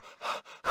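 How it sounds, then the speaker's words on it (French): A cartoon character pants, out of breath after dancing, in three or four quick, breathy bursts that are close and fairly loud. "on a bien dansé. J'en suis tout essoufflée."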